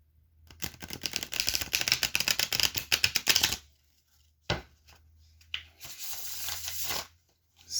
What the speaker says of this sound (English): We'll give this one more shuffle real quick.